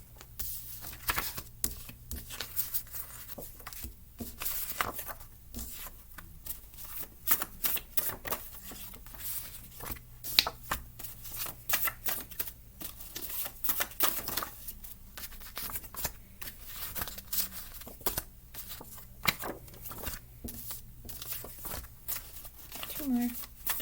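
Oracle cards drawn and shuffled from a green deck during a reading, giving a steady run of crisp papery flicks and riffles, close and fairly loud, mixed with bursts of talk throughout.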